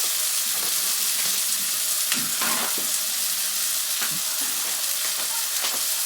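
Stovetop biscuits frying in a pan, a loud, continuous sizzle and hiss with brief bursts of crackling as they are turned, no voices over it.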